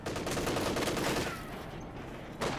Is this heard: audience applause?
no